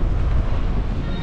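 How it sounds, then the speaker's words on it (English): Gusty wind buffeting the microphone on Las Ramblas in Barcelona, a steady low rumble filling the whole moment with no clear voices. "It's a little bit windy."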